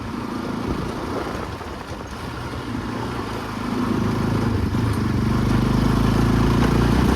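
Steady motorbike engine running throughout, swelling louder and fuller after a few seconds as it revs up, with a constant low rumble and no voices over it.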